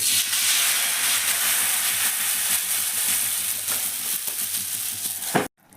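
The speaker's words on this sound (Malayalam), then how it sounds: "ദോശ ചുട്ടുകൊണ്ട് നിൽക്കുകയാണ്" Steady, loud sizzling of dosa batter frying on a hot pan, a continuous hiss that cuts off abruptly near the end.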